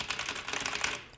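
Fast, dense typing on a Logitech G PRO K/DA mechanical keyboard, a steady stream of sharp key clicks running without pause at moderate volume, close up and with no voices.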